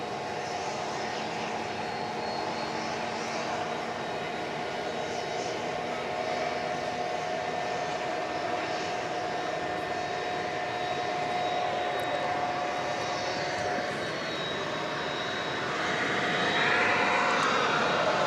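A 2.5-year-old Boeing 767 jet at DFW Airport at night, its engines a steady, distant roar that swells slightly toward the end, with no one talking.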